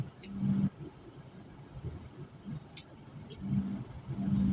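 Slow-moving road traffic on a congested stretch, with low car engine rumble and a vehicle revving up near the start and toward the end, steady and moderately close, no talking.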